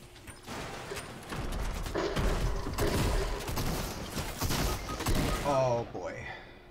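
Sniper gunshots in the Fortnite video game, with sharp cracks standing out from a dense, loud mix of game effects and background noise before the sound fades out at the end.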